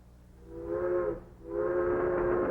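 A train whistle sounds twice in long steady blasts, the second longer and louder, over the low rumble of the moving train, with no talking.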